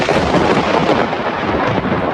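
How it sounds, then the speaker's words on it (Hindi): Thunder and lightning on Jupiter as a space video effect: a dense, continuous roaring rumble of thunder, loud and unbroken, with no voices. "बृहस्पति पर बहुत भयानक बिजली कड़क रही है"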